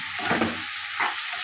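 Bitter gourd sautéing in a hot pan, with steady sizzling and frying crackle broken by a couple of louder stirring scrapes, close and continuous with no talk.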